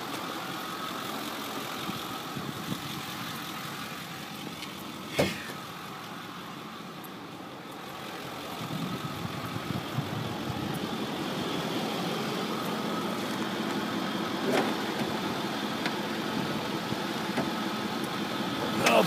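A 2008 Ford F350 diesel pickup idles with its hood open, a steady mid-pitched rumble running evenly throughout with a couple of brief clicks, no talking.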